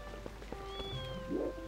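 A cat in The Legend of Zelda: Twilight Princess gives a short, fairly quiet meow near the end, over a soft ambient game tone and light patter, with no talking.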